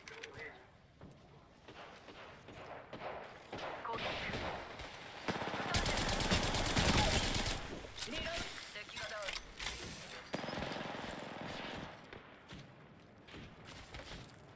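Rapid automatic gunfire from an Apex Legends battle, with sustained bursts and overlapping shots swelling in the middle of the stretch, heard under players talking.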